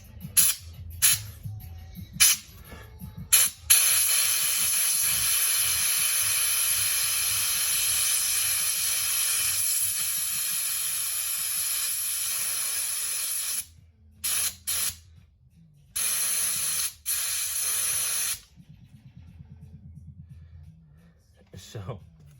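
An ESCO 92041 air bladder jack lets out air in long, steady hisses while a vehicle is lowered onto jack stands, broken by short bursts and pauses near the end, with someone talking over parts of it.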